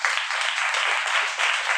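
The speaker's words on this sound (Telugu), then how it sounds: "ఒకసారి అందరూ చప్పట్లు కొట్టండి" A church congregation at a revival gathering bursts into dense, even clapping, loud and close, lasting just under two seconds without voices over it.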